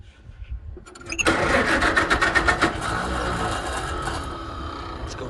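A small engine fitted with a Chinese carburetor cranks with a few rapid chuffs, catches and settles into a steady buzzing run, loud and close with no voices.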